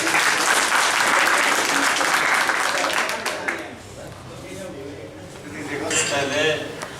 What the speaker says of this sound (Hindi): तालियां मिलेंगी।